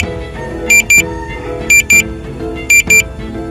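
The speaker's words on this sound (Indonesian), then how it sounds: "Ini RTH nya otomatis karena itu ada suara beep ya, beep beep beep." A drone beeps in paired high electronic tones, repeated about once a second, during its automatic return-to-home, over steady background noise.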